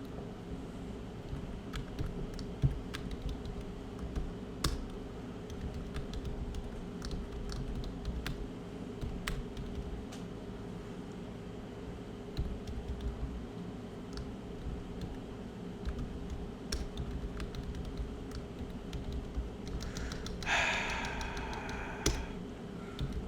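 Steady typing on a computer keyboard that is starting to fail, with irregular clicks and taps throughout under a constant hum of background noise, and a louder burst of keystrokes near the end.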